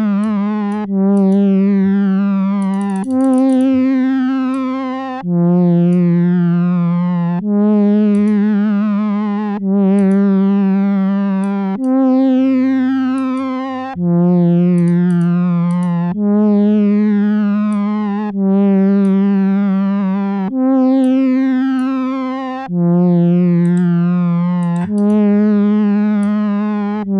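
An ambient FM8 synth pad with wavering vibrato plays a slow sequence of sustained notes, each swelling then fading, in a steady repeating pattern over about half a minute with no talk.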